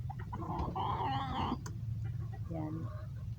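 Farm chickens clucking and calling close by in their coop, with a brief squawk and softer clucks after it, over steady background noise.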